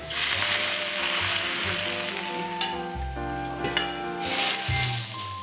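Wild mountain greens from Baekdusan sizzle and crackle steadily in hot oil, with occasional stirring scrapes; a close, continuous frying hiss with no talk.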